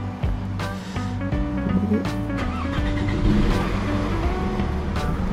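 A 2003 Toyota Camry 2.4 G starts up and its engine settles into a steady, loud idle with a continuous low rumble, heard from close by.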